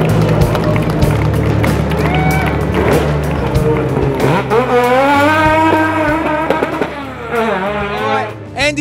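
A rotary-powered Mazda GT Savanna RX3 race car screams through a New Zealand street race at Waimate, its high, buzzing engine note rising and shifting loudly up close amid other racing engine noise.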